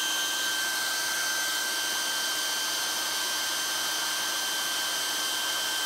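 A heat gun blows a steady, even hiss close by as it warms a vinyl boat seat cover. The sound is constant with no talking.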